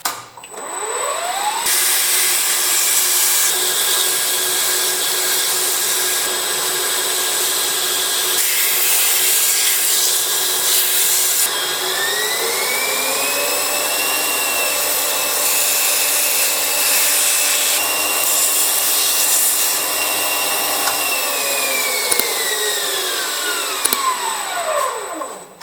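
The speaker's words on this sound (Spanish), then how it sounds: "la lija untada con aceite" A steel sphere turning on a lathe is sanded with oil-soaked sandpaper, giving a loud, sustained whirring grind with shifting tones and rising and falling pitch sweeps.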